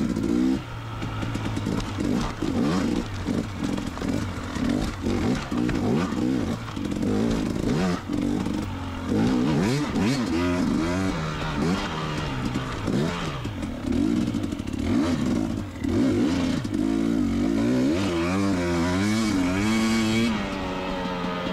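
Dirt bikes race an enduro cross course at a motocross track, engines revving and bogging with repeated throttle bursts, clattering and scraping, loud and close throughout.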